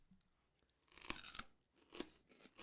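Crisp crunches of biting into food during a taste test, two sharp close bites followed by softer chewing crunches, with no talking.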